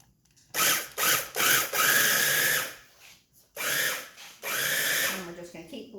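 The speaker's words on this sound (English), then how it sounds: "And we're just going to keep blending it until we get our crust." A small KitchenAid food processor pulses lemon cookies into crumbs for a cheesecake crust, a series of loud whirring bursts, some short and some longer, separated by brief pauses.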